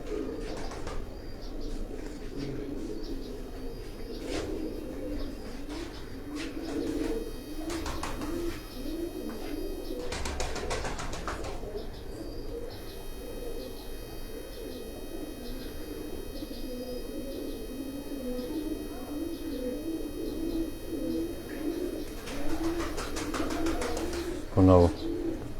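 Pigeons cooing nearby in repeated soft, throaty phrases, with scattered chirps and a brief flutter near the end over a low background.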